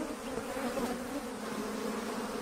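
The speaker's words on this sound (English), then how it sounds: "African honeybees have built a hive inside a nearby tree." African honeybees swarm and buzz around a hive built inside a tree in the African bush, a dense, steady, close drone with no voices.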